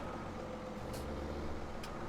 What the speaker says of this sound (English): Alright, I think that should let me get the milk truck out.